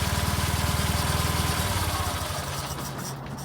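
An engine idles close by with a rapid, even chugging pulse that gradually smooths into a steadier hum.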